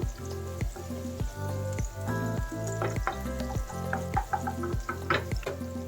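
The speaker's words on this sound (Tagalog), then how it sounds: "Yan, haluin lang muna natin ang ating sibuyas." Onion sizzles and fries in a hot pan while being stirred for a dish of bean sprouts, shrimp and chicken strips, a loud crackling sizzle broken by regular scraping strokes of the spatula about twice a second.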